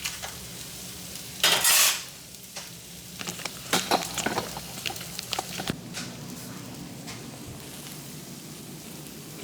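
Potatoes tossed into a pan for a high-protein breakfast, with a loud clatter of the pan and stirring scrapes over a faint steady sizzle that carries on after it, with no talking.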